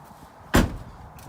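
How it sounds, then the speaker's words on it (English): A Mercedes car tailgate is shut with a single close, loud thud, followed by a short fading rumble. "Shut the tailgate."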